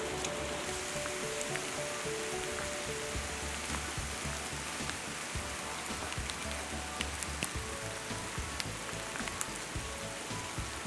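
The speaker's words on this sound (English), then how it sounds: "This rain is gorgeous." Steady rain falls in Tasmania on the way to Snug Falls, a dense, continuous hiss of drops striking surfaces nearby, even and unbroken throughout with no voices.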